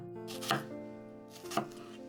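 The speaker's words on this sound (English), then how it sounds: "At first, I mince the onion." A knife mincing an onion on a cutting board for Japanese potato croquettes, two close, crisp chops about a second apart over a quiet steady background tone.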